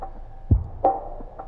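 A short drum break with a long reverb decay and its low end left unfiltered: a few boomy kick and snare hits wash into a murky tail, moderately loud and alone.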